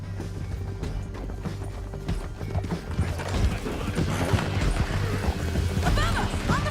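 Horse hooves galloping in Red Dead Redemption 2 during a canyon ride, a steady rapid clip-clop close by, mixed with game noise and rising in intensity, with voices now and then over it.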